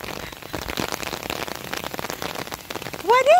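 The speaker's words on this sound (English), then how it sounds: "It's raining, if you haven't noticed." Steady rain patters and splashes on a surface, dense and continuous, with a short high-pitched voice or squeak near the end.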